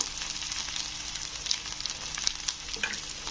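Ginger-garlic paste with turmeric and chili powder frying in oil in a pan, a steady close sizzle with occasional light stirring scrapes and pops, no voices.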